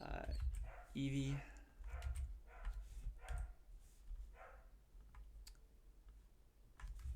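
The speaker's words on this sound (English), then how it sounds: "Sorry for the dogs in the background." Dogs bark now and then in another room during a coding lecture, with a few sharp yaps under a man's speech and clicking keyboard typing.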